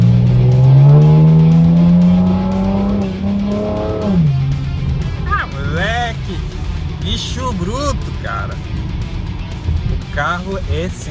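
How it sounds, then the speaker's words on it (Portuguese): A Chevrolet Camaro accelerates hard across a bridge, its engine note climbing steadily through the gears for several seconds before a shift, then the car keeps running loud and close while someone talks excitedly over it. "Vou dar uma acelerada, vou dar uma esticada ali na ponte."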